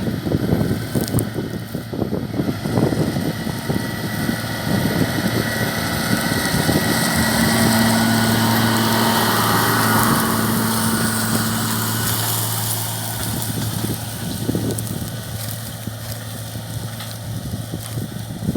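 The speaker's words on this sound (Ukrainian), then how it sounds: "Трактор кейс Puma 210." A heavy Case Puma 210 tractor engine drones steadily and loudly throughout, with wind buffeting the microphone and a low hum that shifts slightly in pitch midway.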